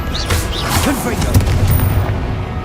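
The Confringo fire spell in Hogwarts Legacy erupts as a loud, rumbling blast with crackling burst texture, close and sustained, while a voice calls out over it.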